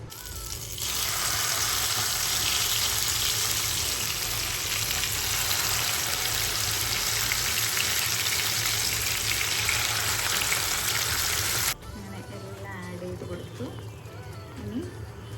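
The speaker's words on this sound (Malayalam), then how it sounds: "ചിക്കൻ എടുത്ത് വറുത്തെടുക്കുക." Chicken shallow-fries in butter and oil with a loud, continuous sizzle that cuts off abruptly near the end. Speech runs over much of the frying.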